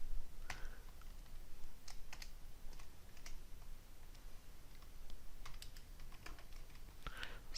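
Keys clack at a quiet, uneven pace as C code is typed on a computer keyboard, close up, with faint background hiss and no voices.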